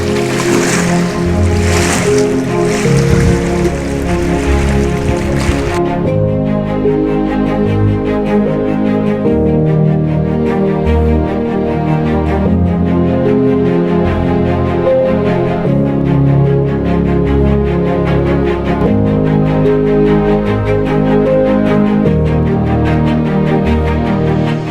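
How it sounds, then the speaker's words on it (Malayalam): Water from the opened shutters of Pechippara Dam rushes continuously. A broad, loud roar holds steady throughout, with no talk. "മഴ കാരണം വെള്ളം പൊങ്ങിയത് കാരണം ഷട്ടർ തുറന്നു വിട്ടിട്ടുണ്ട് അവർ."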